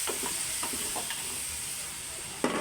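Pork kaldereta with tomato sauce and tomato paste sizzles steadily in a pan while a spoon stirs and scrapes through it in a few soft, uneven strokes, ending in a sharper clink.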